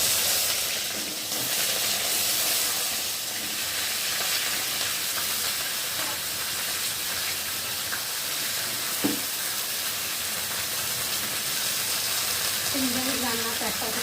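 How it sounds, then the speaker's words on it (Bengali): Vegetables with potato and cumin seeds sizzle in hot oil in a pan, a loud continuous frying hiss close by, with occasional clinks and stirring scrapes. "তো দেখো, আর এখন আমি সবজিগুলোকে ওর মধ্যে ঢেলে দেবো।"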